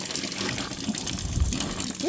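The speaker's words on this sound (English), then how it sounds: "we're going to take it out of the bag and just rinse it off over some running water right fast" Cold running tap water gushes steadily over a slab of cured home-butchered bacon being rinsed, a continuous close splashing wash with no break.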